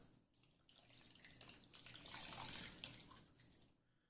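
Water pours into a crock pot holding beef and pepperoncini peppers, a soft steady splash and trickle rising to a fuller gush midway, then tapering off into silence.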